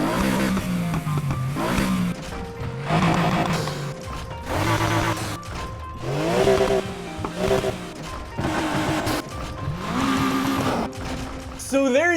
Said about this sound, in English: I will scroll through all of the engines and rev them.